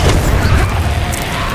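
A Confringo fire spell blast in Hogwarts Legacy gameplay, a loud, dense booming burst with a rumbling low end that rolls on for the whole moment.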